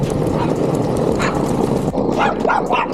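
A dog barks several times nearby, loud and sharp, over the steady rumble of a hub-drive electric skateboard rolling along a road.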